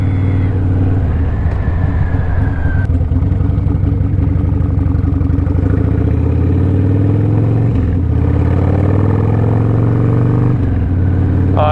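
A motorcycle fitted with a short Sawicki shorty bagger exhaust pipe runs steadily nearby, a loud, deep, uneven idle with a few light blips and rises in engine pitch, and no talking.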